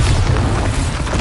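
A Bombarda spell explosion in Hogwarts Legacy: a loud, dense, roaring blast that fills the short moment with broadband rumble, no voices over it.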